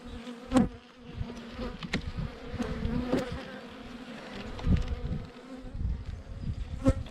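Honey bees buzz steadily around an open hive during a spring inspection, a dense close drone with individual bees zipping past the ear, and no talking.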